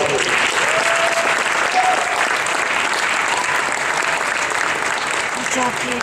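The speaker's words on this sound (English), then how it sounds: "Let's give these three ladies a round of applause" Loud, sustained applause for three players at a girls' high school basketball senior night in a gym, a dense continuous roar of clapping with faint voices underneath.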